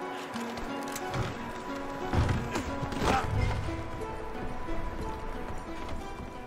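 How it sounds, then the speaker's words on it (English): Horse hooves clip-clop at a moderate pace over ground in the video game Red Dead Redemption 2, with faint ambient noise and no talking. "Micah, go bring the horses closer to the house."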